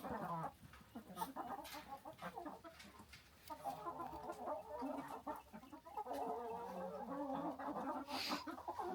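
Farm chickens clucking close by in quick irregular bursts and throaty warbles, several birds overlapping, quiet overall with no talking.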